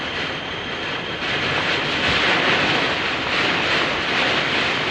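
Storm wind and heavy rain during a thunderstorm outside a mall in Iloilo, a loud, steady roar of downpour and gusting air with no break.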